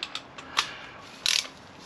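A ratchet with a 32mm socket clicks on a KTM 790 motorcycle's front wheel axle: a few sharp close mechanical clicks, then a brief dense burst of ratcheting, with no talk.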